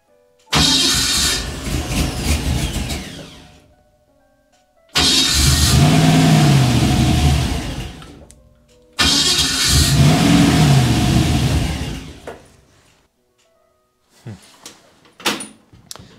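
An airboat engine on Megasquirt fuel injection cranks and catches three times, each run loud and rough with revving swells before dying out, followed by quieter clanks and short sputters.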